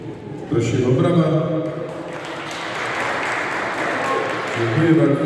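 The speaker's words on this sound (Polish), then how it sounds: "Prosimy o brawa." Crowd applause at a pigeon exhibition in Pelplin, a steady clapping that runs for several seconds and swells toward the end, with a voice speaking over it.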